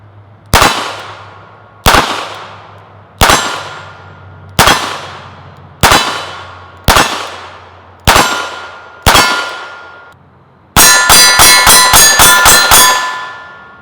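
A Smith and Wesson 43C .22lr J-frame revolver is fired at a target, giving eight sharp, ringing clangs spaced about a second apart, then a fast string of six or seven quick metallic hits close together.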